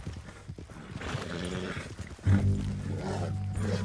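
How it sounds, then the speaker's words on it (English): A horse's hooves clop along steadily in Red Dead Redemption 2, with a snort or whinny breaking in, mixed with low rumbling game sounds. "Ramon, hold your horse there."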